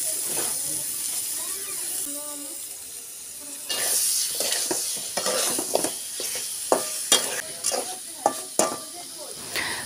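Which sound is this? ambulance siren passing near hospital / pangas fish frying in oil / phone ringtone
pangas fish frying in oil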